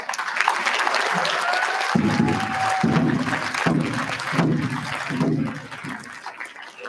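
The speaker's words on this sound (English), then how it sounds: "if you want to stand up so you get a round of applause" Audience applause at the 2023 White Earth State of the Nation address, a steady crowd clapping that swells in waves and then fades, with a brief voice heard before it begins.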